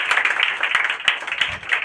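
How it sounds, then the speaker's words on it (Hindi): An audience claps through a Bihar Board district toppers' honour ceremony, dense and fairly loud with uneven sharp peaks, brief and without speech. "ताली होना चाहिए भाई, दिखाओ लोग को, ताली दिखाओ।"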